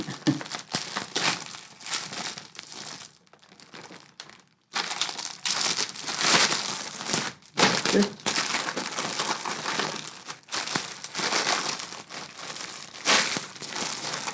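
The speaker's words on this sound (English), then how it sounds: "I'll just cut down the bag that way." A plastic mail bag wrapped in plenty of sellotape is cut open, giving close, continuous crinkling and crackling in busy bursts with one brief pause; a voice talks over parts of it.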